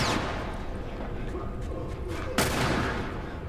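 Enemy gunfire in The Last of Us Part II, a steady rattle of shots under a continuous noisy mix, with a sharp louder burst near the end.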